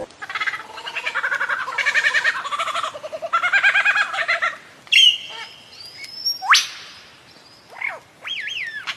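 A lyrebird mimics other birds, starting with a fast, gobbling, chattering run of notes. Sharp whistles, squeaky chirps and trilling calls follow, loud and close, with brief pauses between them.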